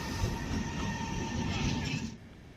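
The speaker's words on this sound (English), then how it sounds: "our train arrives from the depot." A RegioJet night train arriving from the depot, with a steady rumble of wheels on rails and a faint squeal, close and fairly loud, easing off near the end.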